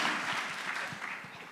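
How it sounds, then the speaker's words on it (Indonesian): Indonesian audience clapping in a continuous dense patter, fairly close and steady, with no voices on top. "Tepuk tangan, jangan nanggung-nanggung Bapak Ibu Saudara."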